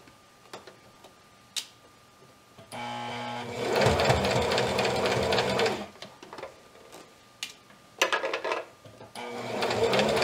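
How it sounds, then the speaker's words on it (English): A home sewing machine stitching a fabric seam on a ruffled petti-romper, with a steady mechanical whirring run of a couple of seconds, a pause, then another short burst, with quiet clicks and handling noises in between. "I've finished sewing my seam all the way down"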